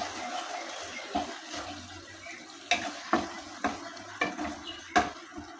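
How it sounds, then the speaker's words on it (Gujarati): Masala stirred in a pan with a little added water while cooking bhindi: a soft sizzle under a series of distinct spoon scrapes and knocks, about eight strokes, close and without talk. "મિક્સ કરી લઈએ."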